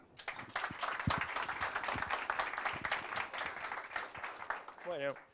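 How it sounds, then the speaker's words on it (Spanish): An audience at a software development week event applauds a speaker, a steady wash of clapping running the whole stretch at moderate level, with a short voiced sound rising near the end. "Un fuerte aplauso para"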